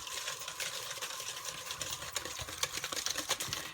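Whole eggs, egg yolks and sugar being mixed in a bowl for bread and butter pudding, a fast continuous whisking clatter with rhythmic taps, close and fairly loud, with no voices.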